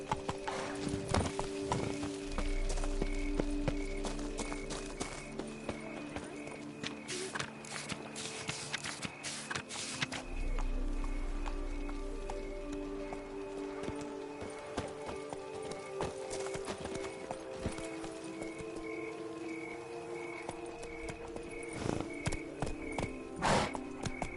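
Hooves of Roach, the horse in The Witcher video game, clip-clop steadily at a walking pace close by, with a sustained musical background and occasional louder hoof strikes throughout.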